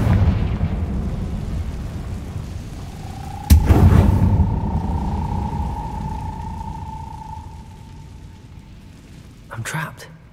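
A Confringo spell explosion in Hogwarts Legacy bursts suddenly into a loud boom with a rumbling tail and a ringing tone that slowly fades, followed by a second, smaller burst near the end over a background rumble.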